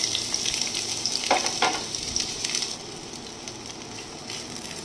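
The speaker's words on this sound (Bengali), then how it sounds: "পেঁয়াজটা একটু ভাজা ভাজা হবে" Chopped onion frying in mustard oil in a frying pan, a steady close sizzle with occasional scraping stir strokes, easing slightly softer toward the end.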